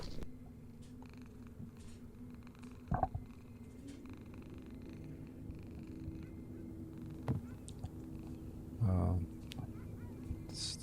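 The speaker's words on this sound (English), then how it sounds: "Oh, it's a kitty." A cat purrs softly inside a horror video game, a low steady rumble sitting quietly under faint background noise, with a few brief louder thumps and a short burst near the end.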